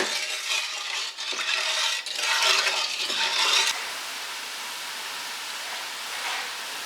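A spoon stirs pickle brine in a pot on the stove as it heats toward a boil, giving a steady scraping, sloshing hiss that drops to a quieter even wash of heat noise partway through.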